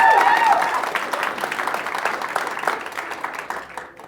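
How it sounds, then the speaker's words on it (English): Audience applause at an accelerator demo day, a steady burst of clapping from a crowd that fades out over a few seconds. "Let's give everybody a round of applause."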